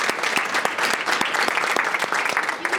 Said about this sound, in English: If we could give our round of applause.